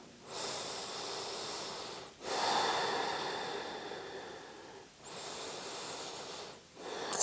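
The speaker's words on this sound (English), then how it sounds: "And just take 2 breaths here," Slow, deep breathing during a wrist stretch: three long, close breaths, each a drawn-out airy rush separated by short pauses, with no talking over them.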